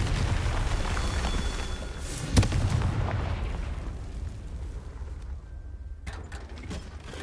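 A Confringo blasting spell detonating in Hogwarts Legacy, one sharp close boom followed by a rumbling, fading tail over low game ambience.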